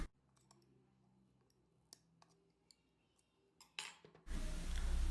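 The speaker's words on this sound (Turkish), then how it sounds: "Vakumlandığı için önce bir bıçakla kapağın kenarından havasını alıyorum." A knife tip prying at the edge of a vacuum-sealed pickle jar lid gives scattered faint clicks and taps, ending in a loud burst of rushing air as the seal breaks.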